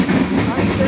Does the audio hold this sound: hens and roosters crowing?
no